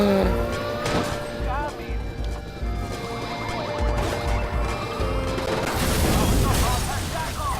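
A car seized and driven off in Watch Dogs, with a revving engine, tire screeches and crashing impacts amid chaotic game noise and gunfire, under loud, excited talking throughout.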